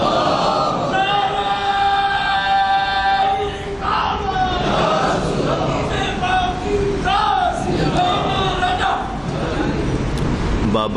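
A large gathering at a religious sermon chants slogans in unison, many voices rising in loud, sustained, rhythmic calls that fill the space throughout.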